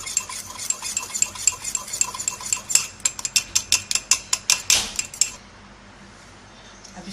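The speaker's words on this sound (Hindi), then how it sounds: "अब इसे हम अच्छे से मिक्स कर लेंगे।" A spoon stirs mug cake batter with milk inside a mug, giving quick, close, repeated clinks against the sides for about five seconds before stopping.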